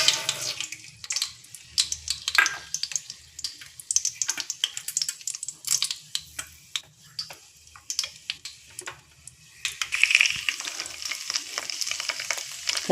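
Chana dal (split chickpeas) frying in hot oil for a lemon rice tempering gives a steady, close crackling sizzle with dense small pops, heard alone without any talking.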